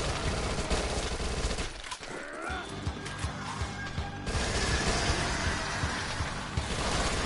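Dense submachine gun fire in Dead Nation rattles on continuously in rapid bursts, loud and close. It stays mostly unbroken, with one brief lull partway through.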